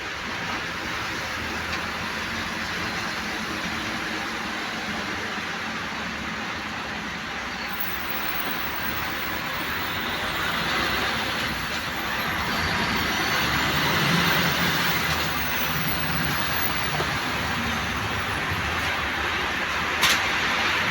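Continuous low rumble from inside a loaded trailer truck crawling through a traffic jam on a road in England, with the engine droning steadily and swelling slightly midway.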